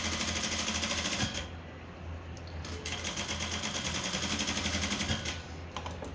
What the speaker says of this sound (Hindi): पेस्टिंग के बिल्कुल साथ साथ ऐसे सिलाई लगाते चलना है अपने।